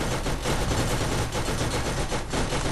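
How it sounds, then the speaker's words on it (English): A mounted turret fires in Borderlands in a rapid, continuous burst of gunfire, loud and close, with brief dips in the stream of shots and no talk over it. "Oh, you can get on this turret."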